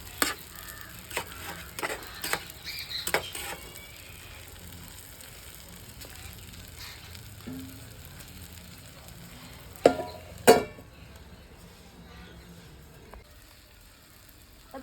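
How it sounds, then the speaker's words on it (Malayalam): Chicken curry ingredients fry in hot oil with a soft, steady sizzle, broken by a few sharp clicks and utensil knocks near the start and again around ten seconds. "ആ എണ്ണയ്ക്കകത്തൊക്കെ ഇരുന്നൊന്നേ വെന്ത് വരട്ടെ കേട്ടോ."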